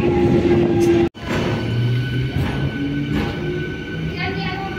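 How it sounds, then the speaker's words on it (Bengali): Local train rolling into Ramrajatala station on the Howrah line: a steady, loud rumble of wheels and carriages with a faint tonal hum, broken by a brief dropout near the start and carrying on under light background voices. "ট্রেন ঢুকতে চলেছে রামরাজাতলা"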